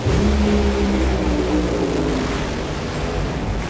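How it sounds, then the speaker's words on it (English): A drag racing car explodes at the track with a loud, sustained, roaring blast of broadband noise and a low engine drone underneath, slowly easing off over a few seconds. "Big explosion!"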